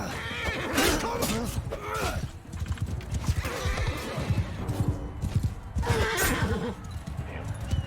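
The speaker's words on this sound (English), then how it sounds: "Saddle horse is the cheapest one." Saddle horse in the video game Mount & Blade 2: Bannerlord, whinnying loudly several times amid clip-clopping hooves and battle noise, with someone talking over it.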